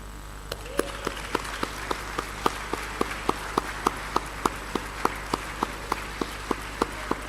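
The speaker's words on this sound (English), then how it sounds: "please keep clapping for her to encourage her" Slow, evenly spaced claps from a small audience at a national conference of chief fishermen and fishmongers in Accra, a steady rhythm of single sharp hits at about three per second, with no voices over them.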